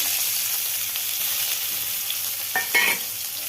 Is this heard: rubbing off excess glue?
no